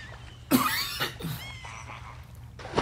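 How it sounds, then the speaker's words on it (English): Two or three short, harsh coughs from a single person, fairly close, with a brief pause between bursts and a faint low hum beneath. "You made me cough."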